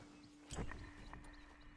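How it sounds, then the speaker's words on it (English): Horse hooves clip-clop at a walk in the Red Dead Online western game, a brief louder cluster of hoof thuds followed by lighter, fainter steps over a low steady hum, with no talking. "Are you sure it's not my horse that you hear?"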